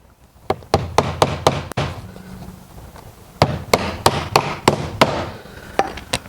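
Aluminum nails hammered into garage door weather stripping, two bursts of sharp, rapid close hammer strikes, about five blows each, separated by a short pause.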